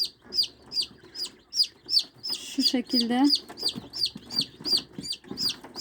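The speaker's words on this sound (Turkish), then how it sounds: "Bu da bir tavuk." A chicken with a throat problem clucks in a steady, rhythmic series of short calls close by, while a person speaks softly in Turkish over part of it.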